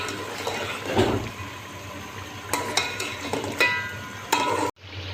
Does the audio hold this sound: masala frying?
yes